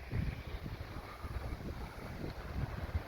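Strong wind sweeps through a vegetable garden and a walnut tree, buffeting the microphone in low, uneven rumbling gusts that rise and fall, fairly quiet overall.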